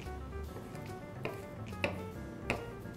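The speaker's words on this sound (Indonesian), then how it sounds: "di sini kita akan potong udangnya. Ini kita potong cincang saja" A knife chops shrimp on a board in a few sharp, evenly spaced taps over a quiet kitchen background.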